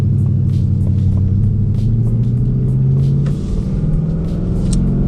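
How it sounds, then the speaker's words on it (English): A 2020 Mustang GT engine rumbles steadily and loudly while driving, a deep, continuous drone that dips slightly partway through, with no talking. "let's get in the car and let's go to my favorite spot."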